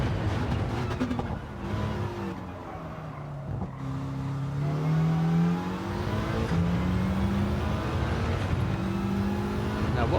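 Mitsubishi Lancer Evolution Group B race car with turbocharger in Gran Turismo 7: a sustained, loud engine drone with gliding pitch as it revs and shifts through gears, steady throughout, with faint talk underneath.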